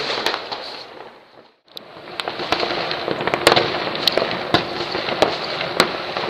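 New Year fireworks burst and crackle outdoors in a dense, loud barrage: sharp bangs and popping firecrackers rattle on after a brief lull, with no voices.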